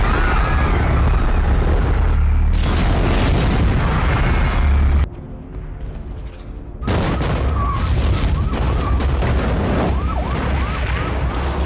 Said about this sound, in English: let off a few of the explosions